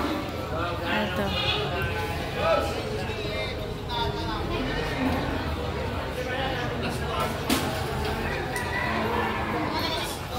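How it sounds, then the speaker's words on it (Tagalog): Goats bleat repeatedly in a crowded livestock corral at a Philippine animal market, overlapping calls rising above steady crowd chatter and background hubbub, with people talking nearby throughout. "sa may koral marami pa rin kambing"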